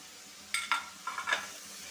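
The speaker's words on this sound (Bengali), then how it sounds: "সমস্ত মশলাগুলো এখন একত্রে করে আমরা কষাই নিচ্ছি" Spice paste of ground cumin and dried chili being stirred in a hot pan, a few soft scraping strokes over a faint steady sizzle, close and quiet with no voices.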